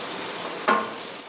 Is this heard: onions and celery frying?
yes